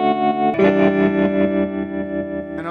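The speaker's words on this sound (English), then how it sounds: "I have a tremolo, you know, an old-fashioned amp tremolo sound." An electric guitar plays through a small overdriven amp with an old-fashioned amp tremolo. A sustained, distorted chord pulses in a steady rhythmic throb, close and full, with a fresh strum at the very end.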